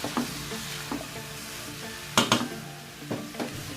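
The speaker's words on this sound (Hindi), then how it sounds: "इसको जस्ट मिक्स कर देंगे ताकि अच्छे से जो स्पाइसेस हैं वो चावलों के साथ मिक्स हो जाए" A spoon scrapes and stirs spices into restaurant-style chicken fried rice in a pan, with a soft sizzle underneath and several sharper clanks against the metal, heard alone without talk.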